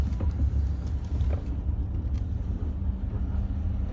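Riding inside a car through winter snow, a steady low engine and road rumble fills the cabin continuously with no talking.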